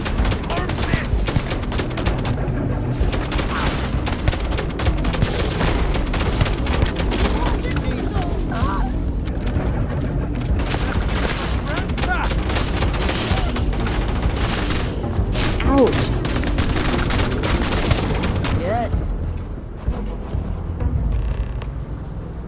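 Rapid gunfire in the sci-fi video game Starfield, with dense bursts and impacts running almost nonstop through a chaotic firefight while voices speak over the action.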